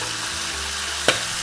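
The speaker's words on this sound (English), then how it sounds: "now I'm just gonna saute the pork until it's brown on all sides" Pork trotters sauteing in a pan, a steady bright sizzle of frying meat with one brief sharp tick near the end.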